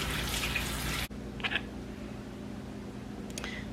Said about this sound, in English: Just want to make sure I wash my hands up good here